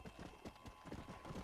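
Horse hooves clip-clopping in a quick, uneven rhythm in Red Dead Redemption: Undead Nightmare, a short run of fairly faint, close hoofbeats.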